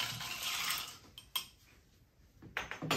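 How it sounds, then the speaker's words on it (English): A bar spoon stirs a watermelon mojito in a glass, giving light metallic clinks and scrapes against the glass, soft and close, with a few sharper taps near the end. "We're going to take our bar spoon, give that a little bit of a mix."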